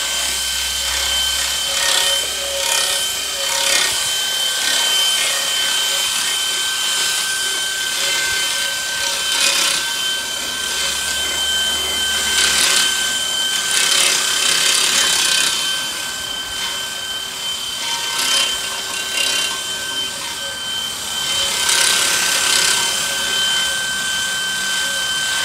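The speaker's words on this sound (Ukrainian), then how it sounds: "Купуємо йоршики для чистки зброї і такими йоршиками починаємо вичищати всі масляні" Gun-cleaning bore brushes scrub through the oil channels of a rusty Tata, Etalon, OM366 engine block, making a continuous close scraping and rubbing with rhythmic back-and-forth strokes and no voices.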